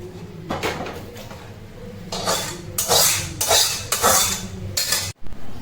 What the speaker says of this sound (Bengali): আমি এবার একে নামিয়ে নিই আলাদা একটা পাত্রে